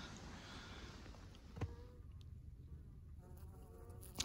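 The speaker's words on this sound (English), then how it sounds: "Warm enough for the bees to be out doing their cleansing flights today." Faint buzzing of honeybees making cleansing flights outside the hive in a bee yard on a warm February day, quiet and close with a few louder passes by the microphone.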